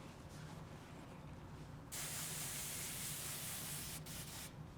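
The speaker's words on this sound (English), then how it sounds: "I'll use the hairspray just to give me some control and just hold it into place" Hairspray mists onto hair in a long, close, steady hiss lasting several seconds that grows louder partway through, with brief gaps near the end; no one speaks.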